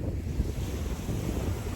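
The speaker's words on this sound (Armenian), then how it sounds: "հույս ունեմ դուք ինձ լսում եք այս ծովի ցայնի" Sea waves wash onto a Spanish shore in a low, continuous surge, and wind buffets the microphone.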